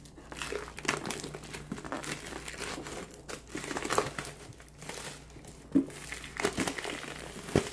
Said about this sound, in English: I just wanna poke a hole so I can just rip the packaging.